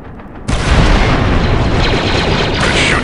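Gunfire in the video game Star Wars: Republic Commando bursts in abruptly after a quiet start, becoming a dense, loud, sustained roar of shots and blasts that continues to the end.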